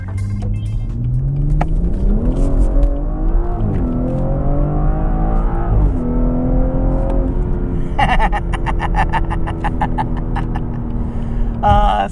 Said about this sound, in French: L'échappement M de 2018 est parfaite, mieux qu'avant.